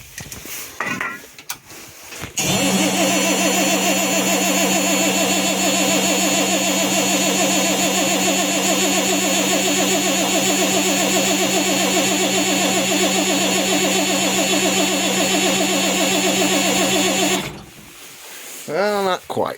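A cold 3000 car engine cranks continuously for about fifteen seconds with a fast, rough, even churn and an uneven hint of one cylinder trying to fire, loud and close, with brief muffled activity before and after.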